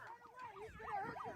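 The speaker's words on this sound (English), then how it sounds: "They're playing that siren." A wailing siren played at a street protest in Minneapolis rises and falls in repeated sweeps, loud and close, with crowd noise underneath.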